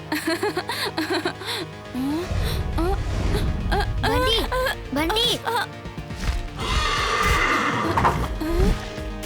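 A cartoon horse in an animated kids' show neighs and whinnies in repeated rising calls, loud and close, with hoof clip-clops and a character talking between the calls.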